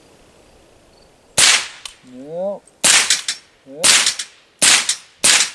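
An AR-15 converted to .22 Long Rifle with a red dot sight fires at small steel targets: five sharp, loud cracks spaced about a second apart, with short bits of a man's speech between the shots.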